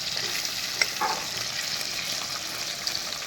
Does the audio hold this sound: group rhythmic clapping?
no